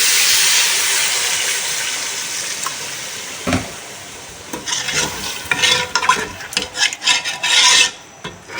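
Water poured into a pot of frying masala for Pakistani-style beef arvi gosht sets off a loud, hissing sizzle that gradually fades, followed by irregular scraping and stirring clatter from a spoon in the pot.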